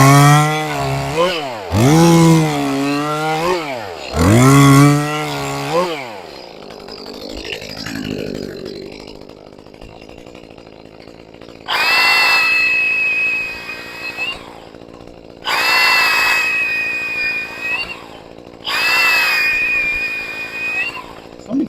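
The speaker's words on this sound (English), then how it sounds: "Gas saw." An Echo 2511T gas chainsaw revs loudly in sharp, rising bursts, then settles into three long, steady whining runs as it cuts through wood, with short pauses between each cut.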